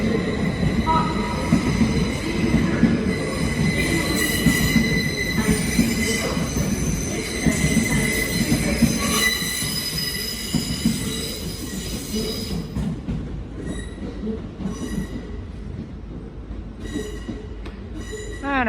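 A Northern passenger train pulls into Newcastle station with loud, sustained metallic wheel squeals ringing over the rumble of rail cars, then fading into lighter squeaks and clatter as it slows.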